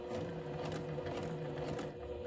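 Domestic sewing machine stitching slowly along a seam to catch the points of ric rac trim with thread, a steady close whirring hum with a light mechanical rattle running throughout.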